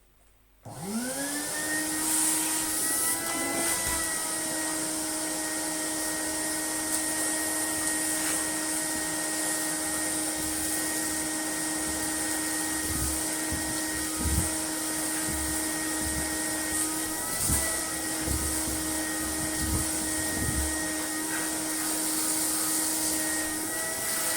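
A 1980 Spinney U62 vacuum cleaner switches on and runs continuously with a steady high whine and airy roar, close and loud, with small bumps and knocks of the hose and nozzle against objects.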